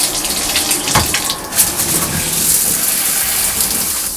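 An Alpenforce filter shower head sprays water in a loud, steady hiss and gush, close by, with a few brief bumps early on before the spray settles into a constant rush.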